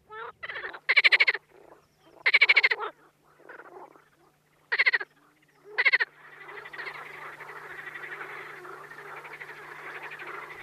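Frogs croaking in breeding season on wide Volga waters, several loud bursts of rasping calls separated by pauses, then a continuous dense chorus of overlapping croaks.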